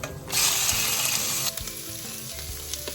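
Garlic and shrimp fry in a pan, a loud bright sizzle that surges at the start, then settles to a quieter crackle with a few clinks of stirring.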